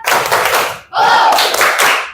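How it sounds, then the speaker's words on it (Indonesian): A classroom of children performs a rhythmic spirit clap in two bursts separated by a short pause, loud and close, with shouted voices joining the second burst. "kita tepuk semangat dulu. Tepuk semangat!"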